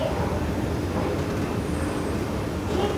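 A Delhi metro train rumbles in a station, a steady broadband roar and low hum filling the space without letting up, with no clear voices on top.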